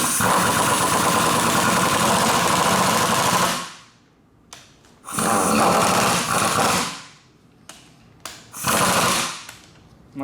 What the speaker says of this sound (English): Now you put them back together with the impact gun.